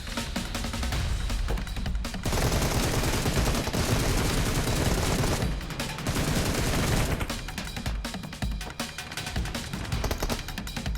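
Automatic gunfire in the mobile game PUBG Mobile, loud continuous bursts of rapid shots that fill most of the stretch, with short pauses between volleys.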